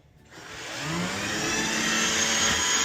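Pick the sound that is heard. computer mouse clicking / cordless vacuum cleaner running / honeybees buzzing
cordless vacuum cleaner running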